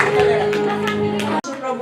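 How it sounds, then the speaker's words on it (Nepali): A church congregation claps during a Christmas celebration, brisk and dense for over a second, then cuts off abruptly before resuming more lightly, with voices beneath. "आमेन आमेन हालेलुया ताली बजाइदिन्छ ल बाँकी सबै"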